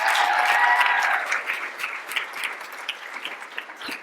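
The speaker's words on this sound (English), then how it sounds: "How about a round of applause for her?" Audience applause at a girls' leadership summit, loud and dense for about a second, then thinning into scattered claps and cheers that carry on to the end.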